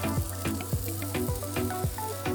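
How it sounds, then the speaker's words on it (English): West African-style steak kebab skewers sizzle on a barbecue, a steady close crackle broken by regular light tapping clicks roughly three times a second, with no voices. "now I'm gonna take my kebab to the barbecue and cook it for about 10 to 15"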